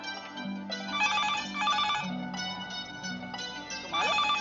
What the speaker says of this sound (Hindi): तुम्हारे फोन की घंटी बजे जा रही